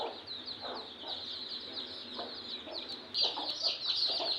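Native country hen clucking beside her newly hatched chicks, soft repeated clucks under continuous high thin peeping from many chicks, growing louder and busier near the end.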